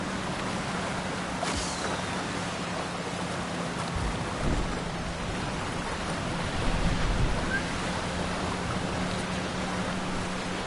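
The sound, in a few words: ocean waves in the video game Trailmakers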